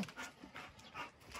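A big dog pants close by in a quiet space near abandoned puppies, a rapid, soft rhythmic huffing of breaths repeating about every fifth of a second, heard alone.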